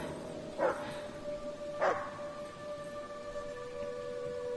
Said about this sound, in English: That dog scared the crap out of me.